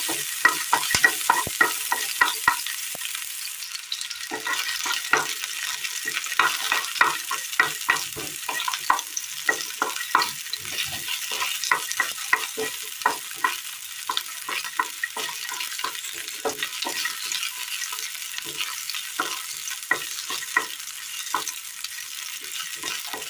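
Small shallots fry in a little oil in a pan for a Kerala curry, with a continuous crackling sizzle broken by frequent sharp scrapes and clicks of stirring, close and steady with no voices.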